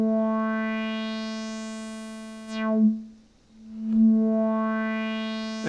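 Arturia MicroFreak synthesizer tone whose filter starts wide open and sweeps down under negative envelope modulation, a sustained buzzy note closing to a dark dip, then a second note swelling back bright, solo and steady.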